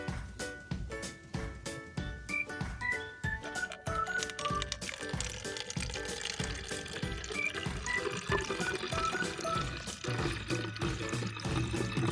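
Water pours into a spray bottle holding a Gliricidia sepium leaf extract, a steady close splashing and gurgling stream that rises in pitch as the bottle fills, running continuously for about twelve seconds.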